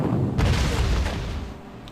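A 25-pounder artillery gun fires in the WWII strategy game Panzer Corps, heard as one deep, booming blast that rumbles and fades over about a second and a half.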